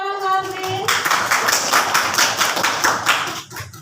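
A short spoken voice gives way to a classroom of students clapping together, a dense and steady patter of hand claps close by that holds for about three seconds before thinning out.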